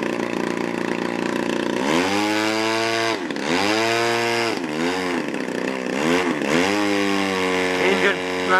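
Model aircraft engine run-up before a maiden flight at a summer flying field, a loud, close buzzing drone that repeatedly revs up and down in pitch, with voices talking nearby.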